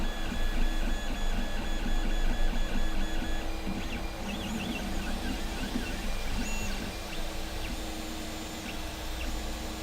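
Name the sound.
3D printer printing a test print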